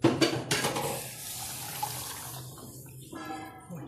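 Water is poured into a pan of dal tempering for ghevada dal aamti, a close splashing gush at the start that settles into a softer bubbling, sizzling hiss as it mixes with the hot fodni.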